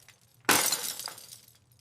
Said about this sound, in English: And look at the broken glass.